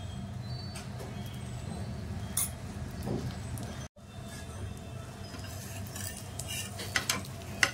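A cheesy egg toast sandwich frying in oil gives a low, steady sizzle close by, broken by occasional light utensil taps and scrapes, more frequent toward the end, with no one speaking.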